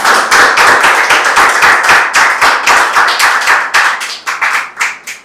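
An audience at a speaking club meeting claps after a speech, steady rapid hand claps close and loud, thinning slightly toward the end.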